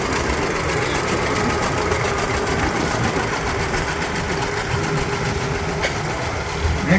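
A 1970 John Deere antique tractor engine runs steadily at an outdoor tractor and truck show parade in Lebanon, Tennessee, a continuous low rumble with mechanical clatter and no pauses.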